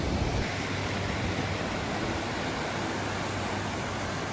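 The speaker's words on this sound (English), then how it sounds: "Here we are, the shores of Lake Erie." Waves wash onto the Lake Erie shore in a continuous broadband rush, steady and fairly loud, with wind noise mixed in and no speech.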